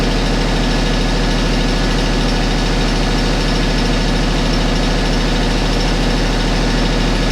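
The Weedinator's engine runs loud and close, a steady, rough mechanical drone with a fast low pulsing throb that holds without a break. No voices are heard.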